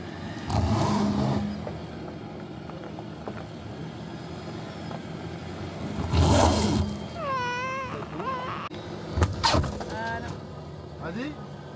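A Nissan X-Trail engine revs in bursts while a wheel spins on stones, loud surges rising and falling, with people talking and a shrill voice briefly over it.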